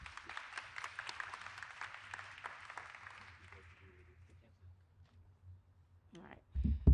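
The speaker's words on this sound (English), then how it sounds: "So Kiana, come on up and please give her a round of applause." A press-conference crowd claps for a speaker coming to the podium at a Los Angeles transportation event, a brief scattered round of applause that fades out after a few seconds, followed by quiet and a couple of close microphone bumps.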